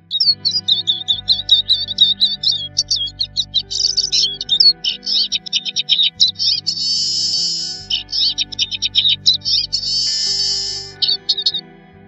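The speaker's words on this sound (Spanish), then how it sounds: "Su canto es un gorjeo continuado." A Eurasian siskin sings a long, continuous twittering warble of rapid chirps, trills and buzzy wheezing phrases, loud and close, running almost without a break for the whole stretch.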